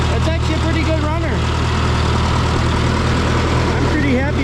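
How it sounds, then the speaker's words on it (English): A Farmall Super C tractor engine idles high, held revved up by its governor, a loud steady low chugging drone throughout, with someone talking over it at times. "I wish it would idle down. I don't know why the governor keeps it so revved up, but it sounds really nice."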